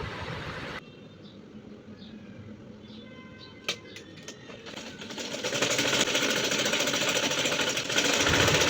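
A domestic sewing machine stitching single-layer fabric pieces for a baby frock runs in a steady, fast mechanical chatter that builds and grows louder toward the end, with a few sharp clicks partway through and no talking.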